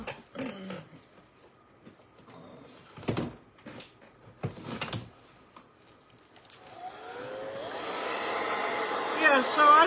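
Hair dryer blowing on a paper craft decoration, starting after a few door-like knocks and bumps and rising to a steady loud whooshing whir that keeps building toward the end.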